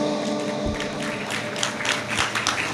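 An audience at a Jain religious lecture claps in a short, scattered burst. The claps are sharp and uneven and sound fairly close, with a couple of dull thumps and no talking.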